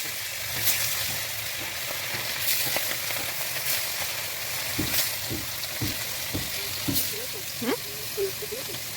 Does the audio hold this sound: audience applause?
no